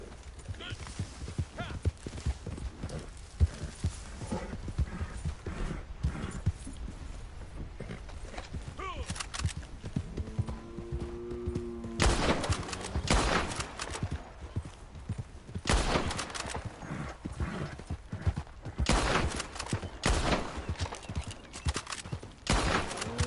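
Hoofbeats of a horse clip-clop in a PS4 video game, rhythmic and fairly close, mixed with bursts of gunfire, a brief whinny and game effects over the course of the stretch.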